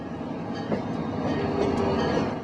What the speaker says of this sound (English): As the historic CHEPE train heads inland through numerous towns, tunnels, and bridges